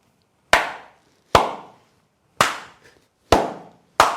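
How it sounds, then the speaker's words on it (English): Five loud, sharp hand claps ring out alone at roughly one-second intervals, each a crisp crack with a short decaying tail, with no voices between them. "how loud can you clap?"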